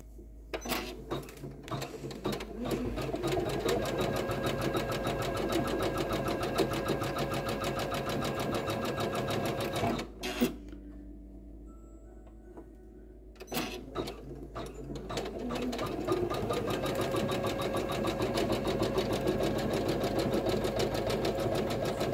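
An embroidery machine sews a bean stitch with yarn, its rapid mechanical needle chatter running steadily and close for long stretches, pausing briefly in the middle before resuming.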